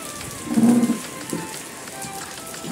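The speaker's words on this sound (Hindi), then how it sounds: "ये देखिए ओले अंदर तक गिर रहे हैं" Heavy rain and hail pour steadily onto a surface with a dense patter, and a louder splash of impacts stands out briefly.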